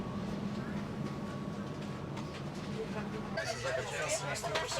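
Inside a moving passenger train in Serbia, a steady low rumble and hum of the carriage runs throughout, with a louder rattling, clattering stretch near the end; faint chatter of passengers sits underneath.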